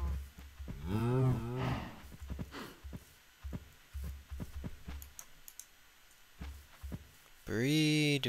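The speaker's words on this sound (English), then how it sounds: "Let's go breed these two cows." Cows mooing in a survival video game while being bred, two long drawn-out moos at the start and end over quiet mouse and keyboard clicking, with a voice speaking in between.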